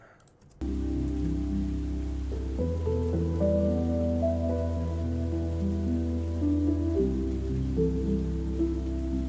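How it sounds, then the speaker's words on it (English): Steady rain sound effect, loud and continuous, with a dense hiss and low rumble layered over a tonal music bed; no voices. "I think the rain is a little bit too loud"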